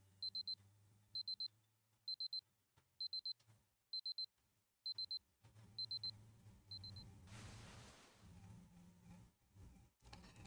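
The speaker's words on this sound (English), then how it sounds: "I hear the sound of a very familiar alarm." A familiar alarm clock rings in the video game Fate Grand Order: rapid high electronic beeps in repeated triple bursts, bright and close, then fading into a low ambient hum.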